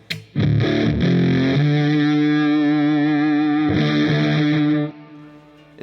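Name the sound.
guitar through Analogman BC183 fuzz face pedal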